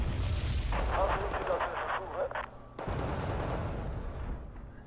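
Mortar artillery in a war strategy video game fires with heavy booms and rumbling blasts, one sharp explosion cutting in partway through, loud and close, while someone talks over it.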